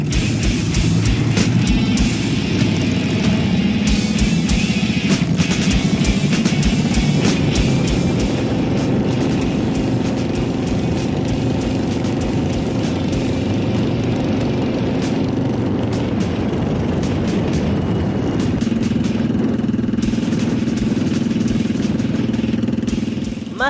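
A dense, continuous roar from a large pack of more than 1,500 high- and low-displacement motorcycles riding together in the seventh Vuelta al Estado Carabobo rally in Venezuela, loud and sustained with engines droning steadily throughout.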